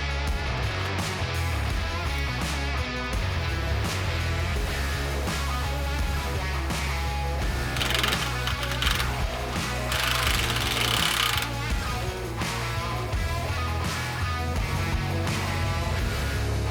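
Power tools at work during an alternator replacement on a Lexus GX, a loud, continuous rattling hammer-like clatter with shifting bursts of higher hiss, no speech.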